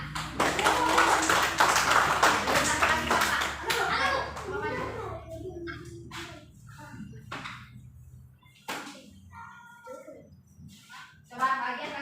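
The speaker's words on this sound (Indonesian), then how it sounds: "Ya, tepuk tangan." Children in a classroom clap their hands together in a burst of applause that tapers off, followed by scattered claps and children's voices talking and calling out.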